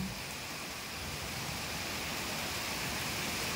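Steady, dense hiss of heavy rainfall in a Philippine province, constant and enveloping without pauses or voices.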